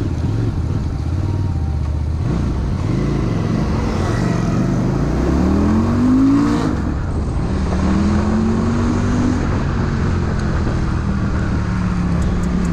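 A QJMotor SRV 400S motorcycle engine runs through its stock exhaust, a loud, close, deep rumble with rising and falling revs across repeated gear changes.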